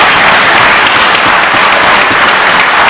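Loud, sustained applause fills a state legislative assembly chamber, many members clapping together in a thick, unbroken roar throughout.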